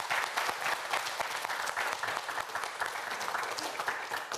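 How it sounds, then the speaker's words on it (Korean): Studio audience at a televised student quiz show giving encouraging applause, a steady, fairly close patter of many hands clapping with no talk over it. "여러분, 큰 박수 부탁드립니다."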